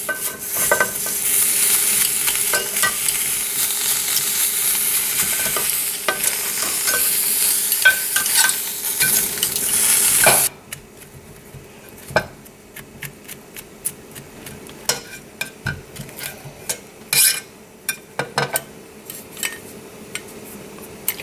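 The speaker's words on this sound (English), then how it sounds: "I'm going to scrape some of that char off before adding it to the soup" A knife or spoon scrapes char off charred aromatics for pho, with bursts of scratching and clinking against a pan, first over a loud sizzling hiss that cuts out midway, then as sparse, sharp taps and scrapes in near quiet.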